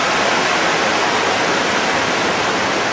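Rapids on the Gyr river rush in a loud, steady broadband roar of churning whitewater, close and unbroken throughout, with no voices.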